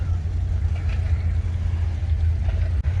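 An air-cooled Wisconsin engine powers a 1945 hay baler, running with a steady low, throbbing drone that holds a constant level throughout. No talking is heard.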